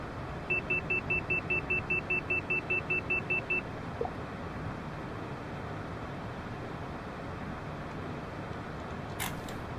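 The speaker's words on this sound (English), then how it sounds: "Oops, that's the overspeed alarm there." A Cessna CJ4 overspeed alarm in Microsoft Flight Simulator sounds as a fast string of about fourteen evenly spaced high beeps over a steady cockpit hum, then stops and leaves only the hum.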